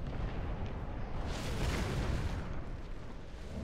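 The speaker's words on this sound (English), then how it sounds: "A bomb." A bomb explosion in the real-time strategy game Supreme Commander 2, a loud, sustained booming roar lasting several seconds amid dense battle noise, with no voices.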